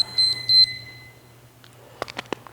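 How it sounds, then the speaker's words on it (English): A workout timer gives a series of short, high electronic beeps, four or five in quick succession followed by a longer tone, then fades; a few soft thuds or movements follow in a quiet room. "The timer wants you to do more work."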